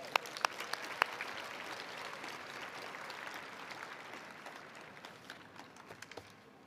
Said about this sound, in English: Let's give our plant systems projects another round of applause.